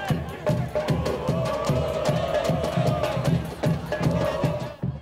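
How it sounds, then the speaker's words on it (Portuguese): Misto supporters crowd Dutrinha stadium at a Série D group match against Sampaio Corrêa, their dense roar of chanting and shouting carrying continuously and loudly throughout, a steady wall of voices with a rhythmic pulse. "o barulho que ecoou no Dutrinha foi dos torcedores mistenses"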